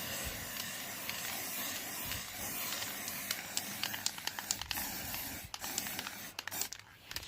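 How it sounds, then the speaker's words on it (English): Spray paint hisses in a continuous stream onto artwork, with short bursts and sharp clicks of the can toward the end. "So if I spray onto it and work my way up to the edge."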